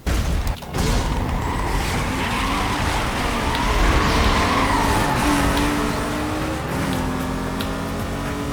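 BMW E30 racing in Need for Speed Most Wanted, a steady loud engine drone with shifting pitch and tire squeal through most of the run, one brief dip near the start, no talk.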